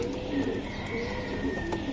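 Pigeons kept for sale coo softly in short repeated low calls amid a faint, steady ambient background, fairly quiet and close.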